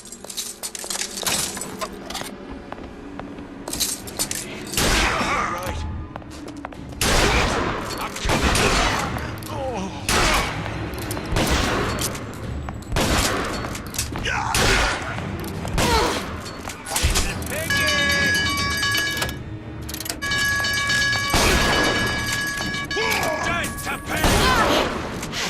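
Bursts of loud gunfire from the video game Bioshock Infinite, rapid volleys and heavy booms repeating throughout, with game effects and chimes layered in and voices occasionally speaking over the action.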